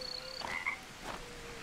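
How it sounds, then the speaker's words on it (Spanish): Frog croaking in the jungle survival video game Green Hell, a few rough croaks up close over a dense hum of insects and ambient jungle noise. "La rana, cuidado. Mirad la rana."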